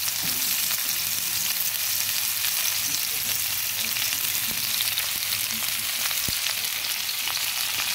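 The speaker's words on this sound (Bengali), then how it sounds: "আলু আর ফুলকপিগুলো দিয়ে দিচ্ছি" Potatoes and cauliflower fry in hot oil left from cooking fish, giving a loud, unbroken crackling sizzle throughout, with faint scraping from stirring now and then.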